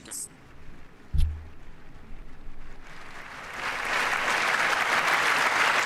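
Applause at the State of the Union starts faint and distant after a brief thump, then swells into sustained clapping from a large chamber crowd.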